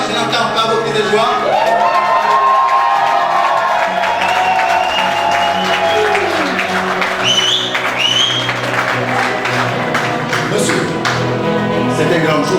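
Wedding guests at a civil ceremony cheer, whoop and applaud in a loud, sustained burst of joyful crowd noise, with shouts and high cries rising over steady clapping throughout.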